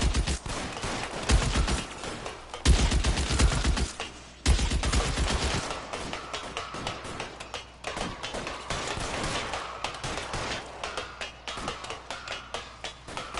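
Rapid bursts of gunfire in a shootout in the video game L.A. Noire, several loud close shots clustered in the first few seconds, then continuing scattered shots and clatter under game ambience.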